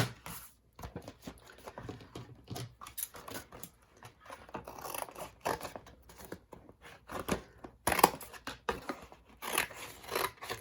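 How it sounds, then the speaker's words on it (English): Scissors cutting through the cardboard of a tissue box, a close series of crunching snips and rustles in irregular bursts, with no speech. "Let me cut this a bit better than that."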